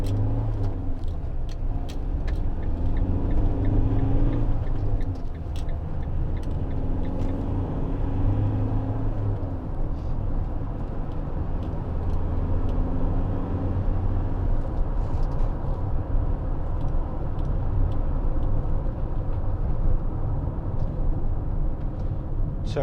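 A 2016 Citroen Relay 2.2 HDi 35 Enterprise L3H2 van being driven, a loud steady diesel engine drone and road rumble inside the cab, continuous throughout with a few faint clicks.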